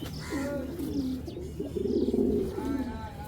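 Racing pigeons, a paired cock and hen, coo in soft repeated throaty phrases close by, with faint background noise and no talk.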